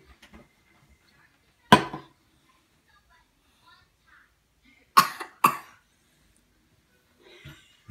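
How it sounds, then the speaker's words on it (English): Three sharp coughs from a child, one alone then two close together, separated by quiet pauses with faint household sounds. "you're coughing all over"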